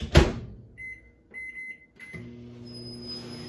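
A kitchen microwave oven heats a dish. A sharp thump is followed by a few short beeps, then a steady close mechanical hum with a faint high whine.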